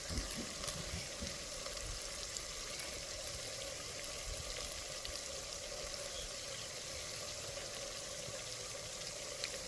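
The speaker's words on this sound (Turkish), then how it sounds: "Artık kavurmam suyunu çekti. Güzel güzel kızarma safhasına geçti." Kavurma meat frying in its own fat in a pan over a wood fire outdoors at a highland camp, giving a steady, continuous sizzle with crackle throughout, fairly close and unbroken by talk.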